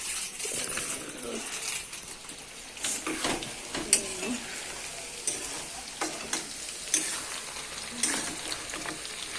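Pakora frying in a pan while being stirred, with steady sizzling and periodic clinks and scrapes of a utensil against the pan, close up, under faint talk.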